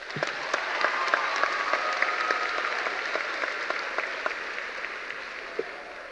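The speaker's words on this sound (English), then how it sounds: "let's hear a round of applause for all the work the students have put in" Applause fills a high school graduation ceremony: a steady crowd of hands clapping, fairly close, with a few sharper individual claps standing out and no talk over it.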